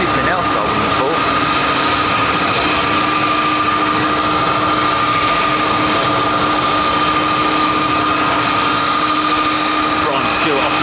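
An Air France Airbus A220 jet departs Heathrow, a steady broad engine roar with a sustained whine holding at moderate loudness across the whole stretch, no voices heard.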